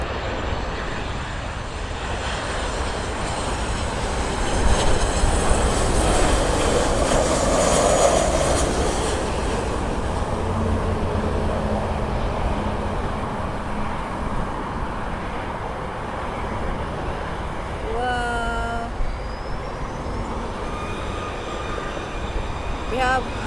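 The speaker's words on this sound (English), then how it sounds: "We have another Southwest landing." A Southwest Airlines jet lands at LAX, its engine roar steady and loud for the whole stretch, swelling a little early on, with a brief whining tone near the end and voices talking over it.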